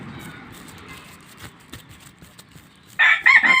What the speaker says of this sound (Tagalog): Aking mga manok nagtatakbuhan sa initan